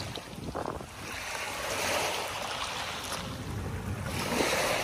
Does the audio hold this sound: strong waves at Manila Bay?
yes